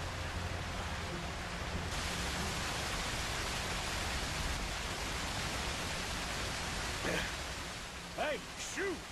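A waterfall in the video game Red Dead Redemption 2 gives a steady, broad rushing roar that fills the whole stretch. A few faint, brief voice-like sounds rise over the water near the end.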